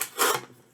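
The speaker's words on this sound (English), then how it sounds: "I'm opening up an envelope." A short, dry papery rasp as an envelope is torn open, close and brief.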